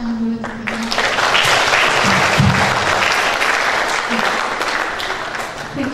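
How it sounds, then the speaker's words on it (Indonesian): Applause from a workshop audience after a STEM teaching session, dense clapping that rises quickly and holds steady and fairly loud throughout, with some faint voices mixed in. "Mungkin bisa tepuk tangan dulu teman-teman"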